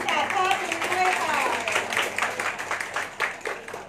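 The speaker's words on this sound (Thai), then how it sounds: "ขอเสียงปรบมือกันหน่อยกับภาพประวัติศาสตร์ภาพนี้ด้วยค่ะ" Guests at a Thai wedding engagement procession clap and applaud in a dense burst of handclaps that lasts the whole stretch, with voices mixed in underneath.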